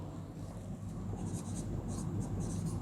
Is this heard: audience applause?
no